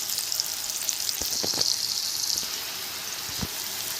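Onion sizzling and frying in a hot pan while being stirred, a steady broad hiss with a few brief clicks and scrapes of the spoon, close and fairly loud, no talking.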